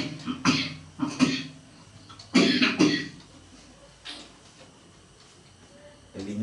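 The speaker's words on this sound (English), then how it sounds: "This kind of cough." Several harsh coughs in quick succession, close by, with a short cluster early on and another pair midway, followed by quieter rustling.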